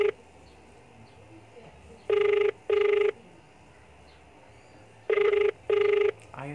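Outgoing phone-call ringback tone, two pairs of double rings with a pause between each pair, clear and steady over faint background hiss.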